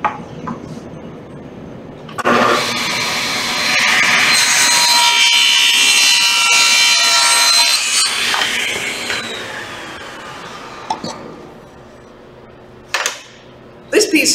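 A table saw rips a strip of scrap off a wood piece held against the fence, a loud sustained whine of several seconds that then winds down, with a few brief knocks and clatters around it.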